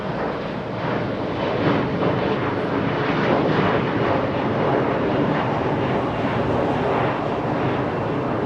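A jet airliner arrives at Los Angeles International Airport, its loud, steady engine roar rushing past over wind noise without any talking.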